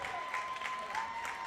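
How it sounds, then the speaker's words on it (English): A high school football crowd in North Augusta lets out a broad, murmuring reaction with scattered clapping, a steady wash of many voices at some distance. "And a sigh of relief from this North Augusta crowd."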